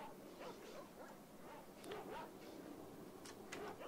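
Dogs bark in the video game STALKER: Shadow of Chernobyl, a few faint, distant yips and barks over a low game ambience, with no clear speech.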